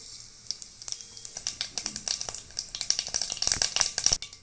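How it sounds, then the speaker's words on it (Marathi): Cumin and mustard seeds crackling in hot oil, a rapid patter of small pops and sizzles that grows busier and louder toward the end, heard close with no talk. "जिरा मोहरी टाकते"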